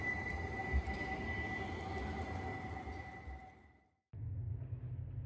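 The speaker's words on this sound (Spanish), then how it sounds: "y también admiramos un poquito de sus tranvías" Trams in Birmingham city centre give a steady rolling rumble with faint whining metallic tones, which fade away and then cut abruptly to a lower street hum.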